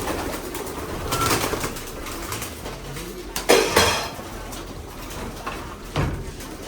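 Racing pigeons coo softly nearby amid scattered clinks and clatter, with a sharper rattle partway through.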